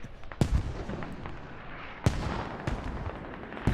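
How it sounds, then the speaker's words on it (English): Hell cannon and mortar barrage impacts in the Squad video game, with several heavy, sharp explosive cracks over a constant rumbling, loud and close. "Hell cannon just landed right next to me."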